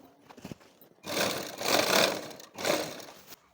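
A sewing machine stitches a double seam along a blouse neckline, running in two steady whirring bursts separated by a short pause, close and loud with no talk.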